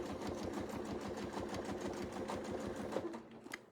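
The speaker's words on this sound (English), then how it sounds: "So we'll tack that stitch right there and then we'll sew." A sewing machine stitches quilting fabric along a straight-line ruler template, giving a close, steady, rapid mechanical chatter that slows and stops near the end.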